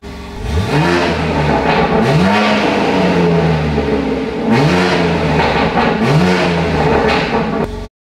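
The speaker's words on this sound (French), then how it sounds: "J'ai utilisé des pots d'échappement Scorpion sur de nombreuses voitures, mais ces BMW ne sonnent juste pas très bien." A BMW M3 fitted with a Scorpion exhaust, valve open, revs hard several times, each rev rising sharply then falling back to a rumbling idle, loud and close.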